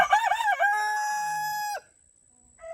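A rooster crows close by, a loud wavering call that holds steady then cuts off abruptly, followed by a brief pause and the start of another call.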